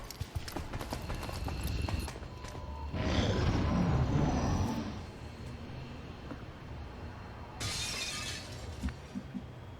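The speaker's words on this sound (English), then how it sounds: "Sounds like another drone crashing through yet another window." In the XCOM 2 Long War of the Chosen game, a drone crashes through a window and breaks glass in a noisy crash. A second burst of shattering follows a few seconds later, with ticking and rattling clatter between them.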